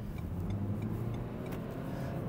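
A Renault Megane 4 GT-line with a robotic gearbox accelerates to overtake, its engine a steady mid-pitched hum under road and cabin rumble, moderately quiet and continuous.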